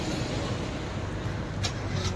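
A car passes by outdoors on a busy street near a garden entrance, a steady broadband road rumble holding at a moderate level throughout, with no talk over it.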